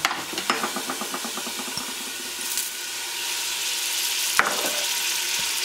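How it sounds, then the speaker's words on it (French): Chopped onions frying in a little oil in a cooking pot for a chorba, a steady close sizzle with stirring clatter and a sharp spoon knock near the end. "Dans la cocotte, je mets un petit peu d'huile. Ensuite, je dépose donc par-dessus les oignons hachés."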